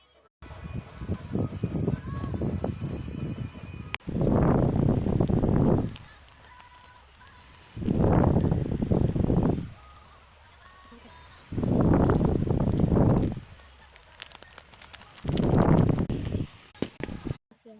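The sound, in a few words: electric fan thumping near the microphone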